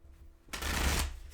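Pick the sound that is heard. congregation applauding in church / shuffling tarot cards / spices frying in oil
shuffling tarot cards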